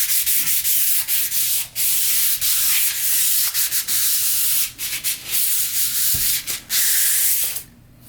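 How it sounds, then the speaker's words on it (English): Sandpaper rubs on a new wooden sword in steady back-and-forth strokes, loud and close, with a few short pauses between passes. "So we got this one sanded, and move on to this one. We're actually do another sanding."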